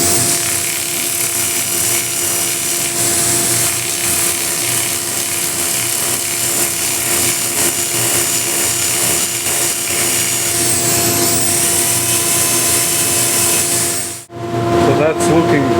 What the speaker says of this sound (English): And now I can sand this, and I'll be using 180 on the drill for this area here.